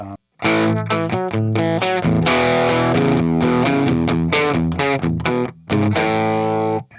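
Thick, driven electric guitar with humbucker tone plays a short bluesy lick of choppy, punchy notes with brief gaps, warm and saturated, no voices; a turnaround lick from a song.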